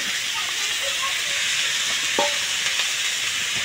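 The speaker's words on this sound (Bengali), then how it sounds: "আর দেখো মা রান্না করছে এখানে" Small fish such as tangra sizzle in a pan on a home stove, a steady, loud frying hiss that runs throughout with a few faint clinks of a utensil.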